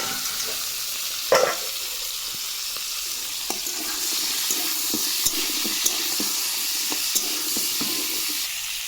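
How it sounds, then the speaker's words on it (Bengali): Beans, potato and tomato frying together in a pan with dried chilli and cumin: a steady, close sizzle and hiss throughout, broken by a sharp clatter early on and light scraping taps of stirring. "এবার কেটে রাখা শিম, আলু, টমেটোটা দিয়ে দেব। দুটো একসাথেই ভেজে নেব।"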